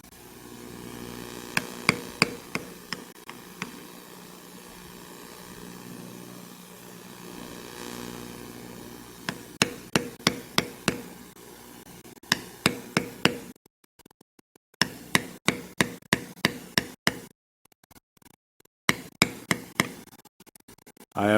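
Leather tooling with a beveler and mallet on oak-leaf stems: sharp, close clusters of rapid taps come in repeated bursts separated by short pauses and silent gaps, over faint room hum.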